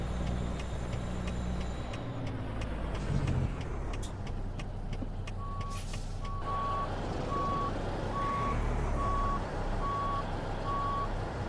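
Semi truck maneuvering a trailer, with a steady diesel engine rumble throughout, a hiss of air brakes, and a regular reversing beep that repeats evenly through the second half, loud and close, no talk.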